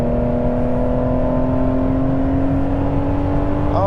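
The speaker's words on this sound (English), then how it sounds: "Just listen to that engine." A Ferrari 599 GTB's engine pulls hard under full throttle in Dubai, a loud, steady, close-up drone with a strong low tone and a rising pitch at the very end.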